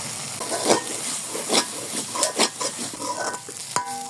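Drumstick leaf (sajne pata) bhorta being fried and stirred in a pan with salt, turmeric and spice powder, giving soft sizzling with irregular scraping and stirring clatter from a utensil, close up and without talk.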